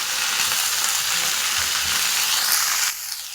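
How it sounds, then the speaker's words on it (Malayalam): Bitter gourd with mustard seeds and three green chillies sizzling steadily in a pan as it is stirred, a loud continuous frying hiss that drops slightly near the end. "നമുക്ക് ഇതൊന്ന് ഇളക്കി കൊടുക്കാം"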